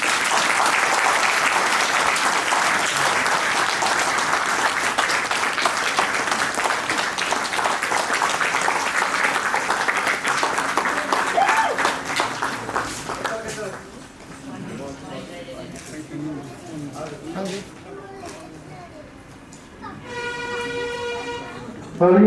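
An audience claps loudly and continuously at a book release function, and the applause fades out after about thirteen seconds. Voices talk over the clapping, followed by a stretch of quieter speech and room noise.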